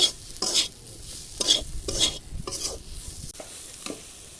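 Onion and spice mixture stirred with gram flour (besan) in a pan, a spoon scraping in repeated strokes with light sizzling between, close and clear with no talk.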